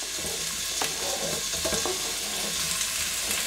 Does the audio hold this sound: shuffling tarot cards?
no